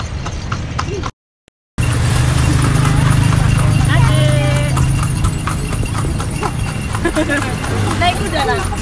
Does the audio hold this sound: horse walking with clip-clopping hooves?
yes